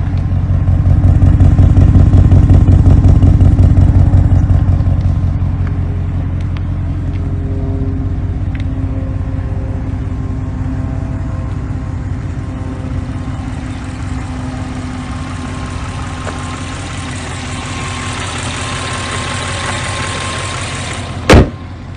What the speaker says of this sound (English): I'll go around back here so you can get somewhat of a sound of the exhaust.